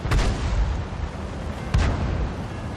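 Artillery fire in World of Tanks, two deep booming blasts a second and a half apart against a constant rumbling battle background, loud and fairly close.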